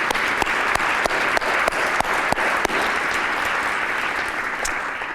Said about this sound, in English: I want to give another round of applause to our panelists and to Kevin and his team for hosting us.